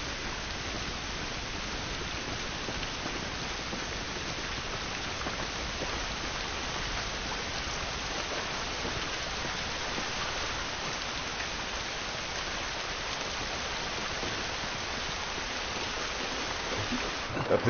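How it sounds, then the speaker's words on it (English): Steady rain pours down in The Last of Us Remastered, a dense, even hiss of drops hitting the ground that holds constant throughout with no talk over it. "This rain ain't gonna do us any good."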